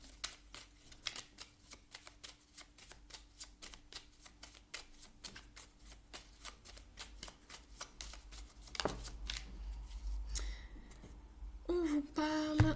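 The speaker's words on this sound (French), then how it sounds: "On va aller voir maintenant une carte du Starlight." Tarot cards shuffled in rapid riffling bursts, close and crisp with a brief pause, then a louder shuffle and a faint voice near the end.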